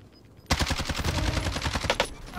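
A LC10 submachine gun in Call of Duty Warzone opens up after a quiet moment, a rapid sustained burst of close, loud shots with no voices over it.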